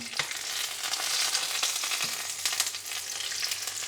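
Aubergine slices frying in oil in a pan, being turned with two spatulas: a continuous dense sizzle with a couple of soft scrapes and taps, close and fairly quiet.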